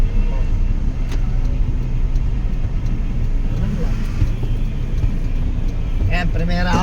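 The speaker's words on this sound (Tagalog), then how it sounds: "Yung ingay na makina ko, ano na, may ingay." A car engine labors uphill in first gear, a loud, steady low rumble with road noise that runs throughout, and a voice is faintly present underneath.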